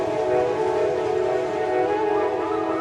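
A small Darjeeling Himalayan Railway steam train passes, giving a sustained tonal, horn-like whistle over a steady rolling rumble, fairly close and loud with no talking.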